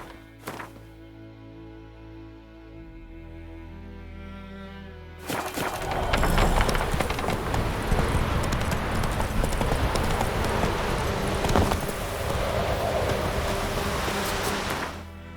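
Hooves pound rhythmically as a horse gallops in the video game The Witcher 3, a fast, loud clip-clop that starts after a few quiet seconds and keeps going with a rushing background.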